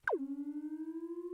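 A synthesized tone from the Xfer Serum synthesizer through a comb filter, with a short pitch drop at the start, then a steady hollow, buzzy note pulsing in a fast, even rhythm; faint and clean.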